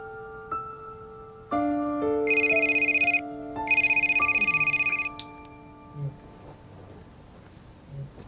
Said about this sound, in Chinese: 我电话嘈醒咗啊嘛